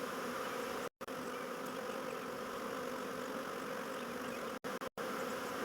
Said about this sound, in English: The thing about the queen that's flying around like that